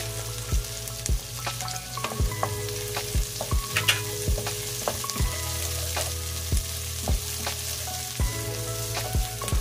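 Garlic sizzles in hot oil in a pan while cooking sweet and sour pompano, with steady frying hiss broken by repeated sharp clinks of a utensil stirring against the pan.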